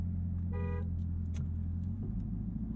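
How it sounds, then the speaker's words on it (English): A Chevrolet Camaro ZL1 1LE sounds a single short horn blast of about a third of a second, over the steady low rumble of its idling engine. "How about the world-famous horn test?"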